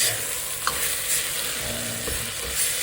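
Goat meat sizzles and fries in a pan as ready-made biryani powder is stirred in, a steady crackling hiss with a few soft scrapes and knocks of the spoon, no voices heard.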